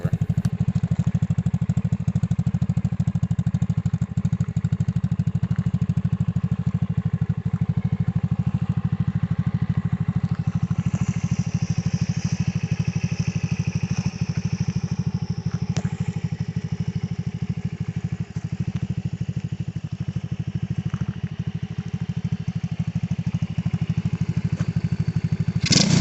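Xpro Vader 125cc motorcycle engine idling steadily up close, a continuous low putter with faint clatter running unbroken throughout, no talking.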